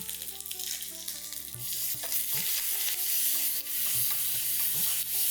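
Mustard seeds, onion, dried red chilli and curry leaves frying in oil, a steady bright sizzle with soft stirring and scraping, accompanied by faint tonal background sounds.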